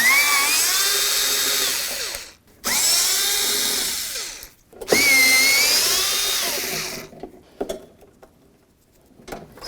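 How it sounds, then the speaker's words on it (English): A power drill backing screws out of the exterior door handle on a 1988-2002 GMC Sierra 1500 truck: three loud, close whirring runs of a few seconds each, then faint scattered clicks and handling noises. "we're going to remove these screws so we can get this off of here"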